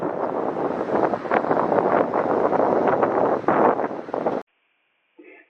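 Strong wind at the beach near Cape Reinga, New Zealand roars and buffets steadily for several seconds, then cuts off abruptly into near silence.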